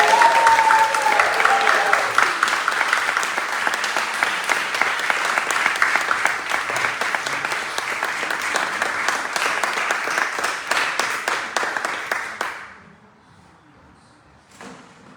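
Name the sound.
crowd applauding and cheering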